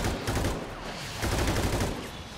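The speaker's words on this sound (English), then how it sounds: "They're shooting me through the wall." Sustained gunfire in a tactical shooter video game, dense rapid bursts of shots firing continuously and loudly through a wall, rolling without pause for the whole stretch.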